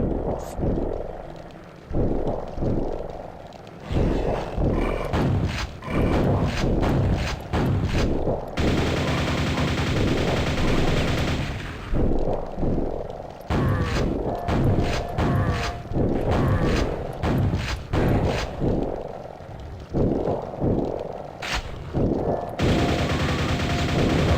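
Repeated gunfire and heavy weapon blasts in the first-person shooter Quake, fired at a shootable wall texture; loud, dense bursts with thumping impacts across the whole stretch, no talk.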